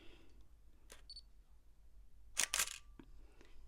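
A DSLR camera shutter fires with a shortened exposure, a faint click and then a crisp, quick double-snap of the mirror and shutter, heard up close in a quiet room.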